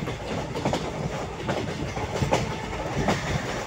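A passenger train runs on rails through hilly, forested country, giving a steady close rumble broken by a regular clickety-clack of wheels over rail joints, with no talking.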